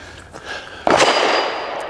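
A single sharp shot from a Hammerli Forge H1 .22 pistol cracks out close and loud, then fades into a short echoing tail. Quieter background noise comes before it.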